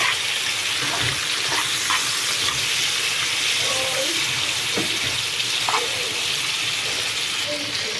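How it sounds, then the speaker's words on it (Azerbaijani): Chicken pieces frying in plenty of hot oil in a home kitchen, giving a steady continuous sizzle and crackle throughout with faint clinks, no speech over it. "Toyuğumuz belə qızarır burada."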